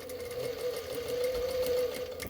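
A sewing machine stitching fabric for a beginner Christmas decoration, a steady, continuous whirring hum of rapid stitches running close and alone for a couple of seconds.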